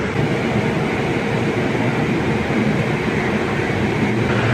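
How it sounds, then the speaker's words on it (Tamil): Inside the Uday Express, hauled by an Erode-shed WAP7 electric locomotive, a loud continuous rumble and rushing roar of the moving train fills the carriage steadily, with no talking. "நம்ம உதய் எக்ஸ்பிரஸை இன்றைக்கி புல் பண்ண போகிறது EDLS ஈரோடு லோக்கோ ஷெட்டுடைய WAP7"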